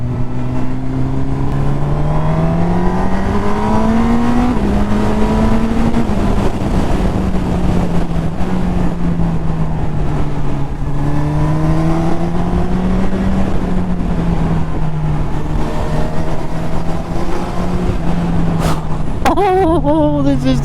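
A Honda CB1000R motorcycle accelerates hard up a hill, its engine note loud and close, rising through the revs, dipping at gear changes and climbing again over roughly twenty seconds of steady wind-buffeted roar.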